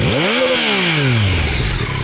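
A 2021 Yamaha MT-09 roadster with a Euro 5 engine and exhaust revs sharply and close, its whistling note climbing quickly, then winding down, loud and alone.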